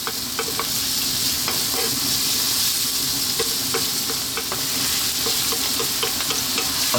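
Vegetables sizzle steadily in a hot pan for a creamy vegetable baked pasta, with frequent stirring scrapes and clicks of the spoon against the pan over a constant frying hiss.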